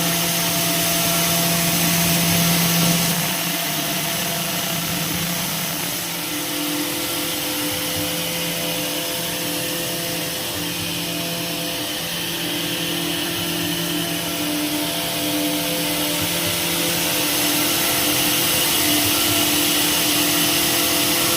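An EASTINO 36-inch 17-gauge 64-feeder double jersey rib knitting machine running, a continuous loud mechanical whir and hum with steady tonal drone, unchanging throughout and heard alone.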